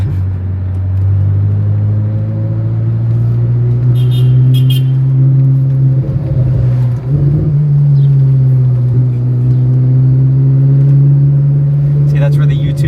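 A truck fitted with a new Valvetronic Ferrari exhaust idles with a deep, steady, loud rumble, rising and settling in pitch as the engine is blipped, with brief voices in the background.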